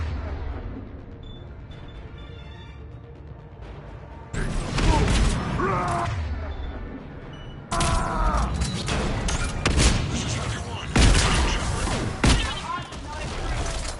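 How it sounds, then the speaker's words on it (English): Mech explosions in a sci-fi video game go off as sudden loud blasts with crackling, gunfire-like bursts and debris, breaking in over quieter mechanical background while voices talk. "observing mech explosions is oddly satisfying"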